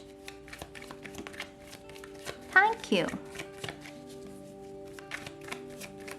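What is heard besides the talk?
shuffling tarot cards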